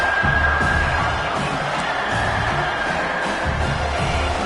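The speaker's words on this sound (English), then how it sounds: "This crowd trying to make life miserable for this offense." A stadium crowd at a college football game roars and shouts continuously at a loud, steady level, with a faint whistle-like tone heard early.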